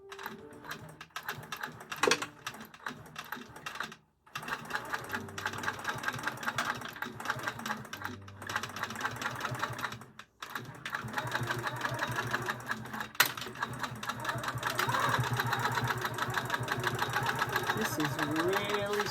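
A sewing machine stitches quilt-as-you-go squares onto a Costco blanket backing along a seam, a steady rapid mechanical chatter running continuously with a couple of brief pauses, close by and alone.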